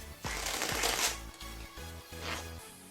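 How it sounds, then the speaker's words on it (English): A deck of playing cards is cut and faro shuffled by hand, giving close, crisp riffling bursts and soft slaps that repeat in an uneven rhythm, with no talk. "You go ahead, cut the deck, and faro shuffle it."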